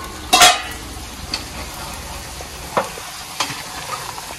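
Minapa garelu fry in hot oil while chicken curry is stirred nearby, a soft steady sizzle broken by a few sharp clinks and scrapes of a spoon against the pan.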